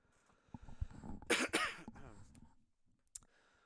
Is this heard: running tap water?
no